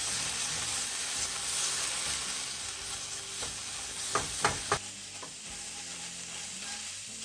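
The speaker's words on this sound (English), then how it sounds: "You only want to saute the gochujang for like 30 seconds." Gochujang sautéing and caramelizing in a pan for a pasta dish: a continuous bright sizzle and hiss with a few quick scraping clacks of a utensil midway, then the frying settles slightly quieter.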